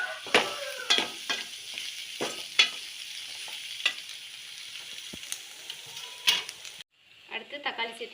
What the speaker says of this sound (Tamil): இதை சேர்த்து இது ஒரு பச்சை வாசனை போகிற வரையும் கொஞ்சம் வதக்கிக்கலாம்.